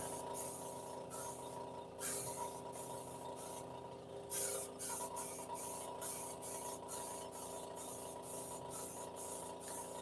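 Short, evenly repeated bursts of spray paint hiss close by as a second coat goes onto a model of the Orville spaceship, with a steady low hum between bursts and no talking.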